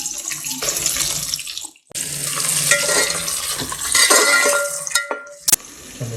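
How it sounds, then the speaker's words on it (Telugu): Onions and green chillies frying in a pan for a farm chicken biryani, a steady close sizzle with scraping stir strokes and brief pauses, no talking. "ఈ ఉల్లిపాయలు చక్కగా మనకి గోల్డెన్ బ్రౌన్ వచ్చేదాకా వేగనివ్వాలన్నమాట."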